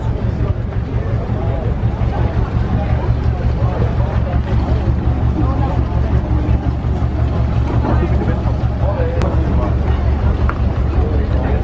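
A steady, loud low engine drone from a boat on the Mekong Delta in southern Vietnam runs throughout, with wind buffeting and voices over it.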